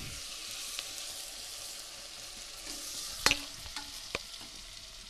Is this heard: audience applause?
no